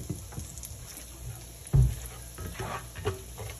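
Butter and cooking oil sizzling in a pan with shrimp, a soft continuous crackle broken by a sudden louder clatter and a few stirring scrapes, close and quiet.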